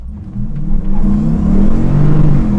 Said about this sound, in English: if I floor the pedal, the car goes like a rocket